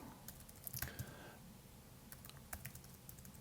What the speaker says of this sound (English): type in the URL